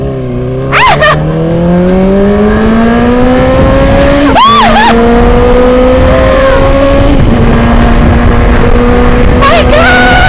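A vehicle engine whines at high speed and rises steadily in pitch as it accelerates, loud and close throughout the ride, with brief bursts of voices cutting in.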